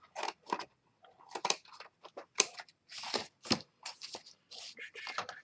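Scissors snip through a thick sheet cut from a brown paper shopping bag, each crisp cut close and distinct, coming in a rapid, uneven series of short crunchy strokes with brief pauses between them.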